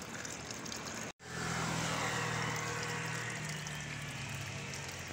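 A washing machine with a broken wash motor drains its water, giving a strong, steady gushing rush that cuts out for a moment and then resumes at full force, with no voices.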